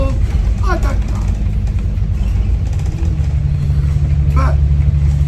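Steady engine rumble and road noise inside a moving bus on a coastal route between Portsmouth and Brighton, a continuous low drone with a brief higher whine, no talk over it.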